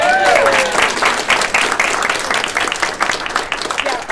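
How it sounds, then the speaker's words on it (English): Audience at an award program applauding its sponsors, a loud, steady round of clapping from a seated crowd, with a voice briefly heard at the start. "You're supposed to clap for all of our sponsors."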